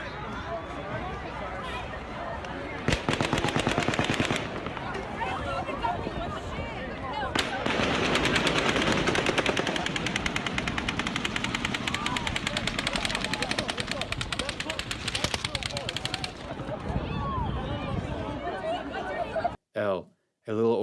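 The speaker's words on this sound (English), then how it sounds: "over 10 seconds of multiple gunshots are heard" Sustained bursts of rapid gunfire during the Las Vegas mass shooting crackle loudly for many seconds, with dense overlapping shots, brief pauses between volleys, and crowd noise mixed in.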